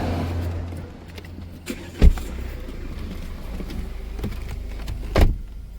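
A Mercedes car runs with a low, steady engine hum inside the cabin, broken by a few sharp thumps and clicks, with no talking.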